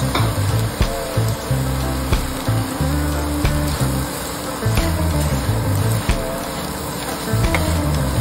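Jaggery going into a hot pan with raw mango pieces for a sweet pickle, giving a steady close sizzle with soft stirring and scraping, and a low rumbling hum underneath throughout.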